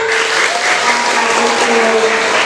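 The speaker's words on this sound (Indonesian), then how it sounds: "Sekali lagi tepuk tangannya yang lain meriah" A school audience applauds during a student council (OSIS) candidate debate at a junior high in Srono, a steady, dense wash of clapping that holds loud and even from start to finish.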